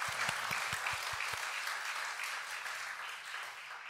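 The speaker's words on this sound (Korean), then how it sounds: "우리 하나님께 다시 한번 영광의 박수를 올려드리십시다" A church congregation applauds in a steady patter of many hands, moderately quiet and sustained for several seconds with no talking over it.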